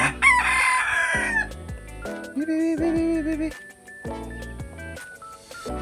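Native and Rhode Island chickens crow and cluck close by in a busy, overlapping flock chorus, with tonal crows rising over continuous clucking and background noise.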